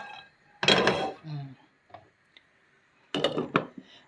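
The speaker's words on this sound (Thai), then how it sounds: "คั่วถั่วก่อนนะคะ" Peanuts are dry-roasted in a pan on a home stove, with two bursts of scraping and rattling as they are stirred, plus a few faint clicks in between, fairly close.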